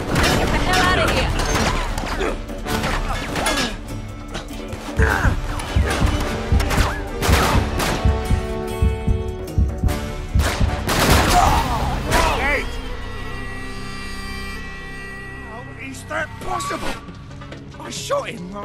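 Gunfire in Uncharted: Drake's Deception, a series of loud, sharp shots and crashing bursts packed into the first half, then sparser scattered reports, mixed with voices and orchestral music.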